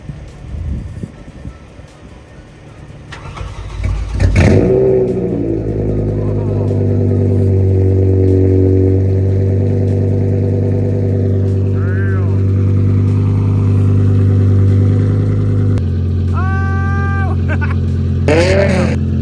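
A BMW E60 M5 with an upgraded exhaust starts for the first time. The engine cranks and catches with a loud burst, then settles into a deep, steady, rumbling idle close by, with brief voices near the end.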